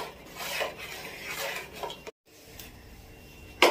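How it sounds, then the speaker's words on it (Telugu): Flour dough for ariselu is worked and stirred in a metal pot, giving soft scraping and rubbing strokes with a brief clatter of the pot near the end, close and fairly quiet, no talking. "పిండి కలిపేసినాం"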